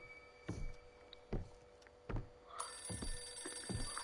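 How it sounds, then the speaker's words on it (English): Telephone in the horror video game Visage ringing with repeated sharp bell bursts, about five evenly spaced rings over a quiet, hushed background, fairly clear and close. "Oh, there it is. That's the phone."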